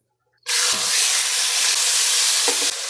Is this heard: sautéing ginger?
yes